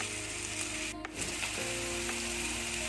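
Thickly sliced onions fry in hot oil with mustard seeds, giving a steady close sizzle and crackle with a brief dip partway through; no one speaks.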